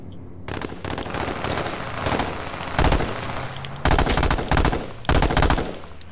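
Rapid automatic gunfire in the battle royale video game H1Z1, loud and close, with sustained bursts and short pauses between volleys and no talking.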